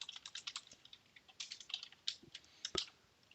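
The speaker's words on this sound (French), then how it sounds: "Clavier." Rapid irregular clacking of keys on a computer keyboard while coding in Haskell, close and fairly quiet, with bursts of keystrokes and brief pauses, no voices.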